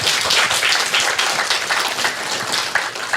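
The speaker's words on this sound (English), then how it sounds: "a very big round of applause for what we just heard" A hall audience at a tribute event gives a big round of applause, dense crisp clapping, loud and close, rippling unevenly for several seconds.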